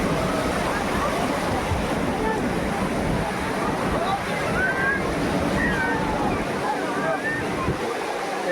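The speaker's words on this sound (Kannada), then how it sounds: "ಆ ಬೋಟು ಬರ್ತಾ ಇದೆ" Continuous rushing surf and sea-wave wash at the Murdeshwara coast as a boat approaches, a steady broadband roar close by with voices faintly underneath.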